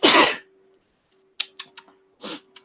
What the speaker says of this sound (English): Just sneezing on live while I'm presenting to everyone